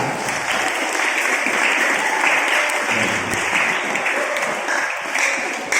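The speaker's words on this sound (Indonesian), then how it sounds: "Tepuk tangan untuk semangat." A school audience at a religious moderation talk claps together on cue, producing a dense, steady burst of applause for several seconds.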